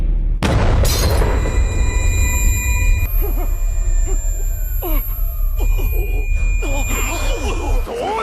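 An anime EMP wave blast fired from a distance: a loud booming burst with a rising high whine and sustained ringing tones, followed by rumbling crackle and warbling electronic sweeps throughout.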